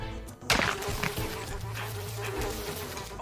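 Flies buzz steadily through a cartoon scene, a continuous insect drone that swells after a sharp onset and holds at moderate loudness with faint voices in the background.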